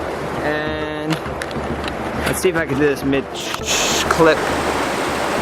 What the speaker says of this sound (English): I'll put the waterfall behind me again.